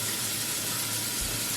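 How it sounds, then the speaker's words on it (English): Cold water runs from a kitchen faucet opened to full flow, a steady, close broadband gush with no pauses. "So this is cold water from the faucet, and this, let's put it on max."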